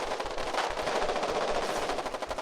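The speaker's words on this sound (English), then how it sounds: "It's a heavy machine gun, that's correct." A vehicle-mounted heavy machine gun in a war video game fires a long, rapid continuous burst, the loud rattling reports packed closely together with no pause and no talking.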